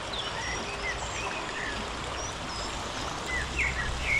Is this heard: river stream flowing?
yes